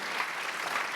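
Audience at a philanthropy celebration interview with Sir Elton John breaking into steady, dense applause, a continuous wash of clapping from a sizeable crowd without pause.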